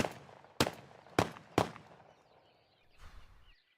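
Remington Versamax 12-gauge shotgun fired three times in quick succession, sharp loud blasts about half a second apart, followed by a faint trailing rumble.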